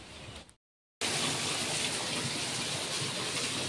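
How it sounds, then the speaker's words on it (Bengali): Heavy rain pours down in a sudden downpour after a thunderclap near Puri, Odisha; a steady, loud, close hiss of rain resumes after a brief silent gap and continues unbroken. "ঝমঝম বৃষ্টি নেমেছে"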